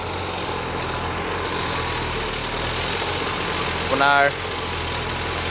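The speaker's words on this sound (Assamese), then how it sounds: "এইফালে দেখিছে আমাৰ ট্ৰেক্টৰে হাল লগাই আছে" A tractor engine idles steadily as it works a ploughing field, a continuous mid-low drone running through the whole stretch while a person talks over it.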